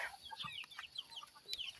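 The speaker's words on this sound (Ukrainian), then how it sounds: "А ці малюки вилазять ось. Курчатка." Young chicks give quick, high, wavering peeps in a rapid scatter of calls, soft and close in a quiet outdoor setting, with no talk.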